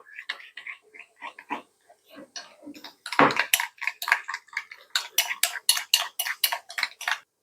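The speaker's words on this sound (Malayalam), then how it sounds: "നമ്മൾ നല്ലവണ്ണം ബീറ്റ് എടുക്കാം എല്ലാം കൂടെ നല്ലവണ്ണം ഒന്ന് ബീറ്റ് ചെയ്തെടുക്കും" Egg mixture is beaten in a bowl with quick, rhythmic clinks and scrapes that grow louder and faster partway through, close by with no talking.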